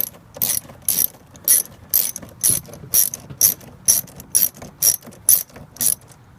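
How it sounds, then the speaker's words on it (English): A ratchet with a 10mm socket clicks through about a dozen rapid, evenly spaced bursts while loosening a negative battery cable, crisp and close with no talking. "So this is a 10mm socket."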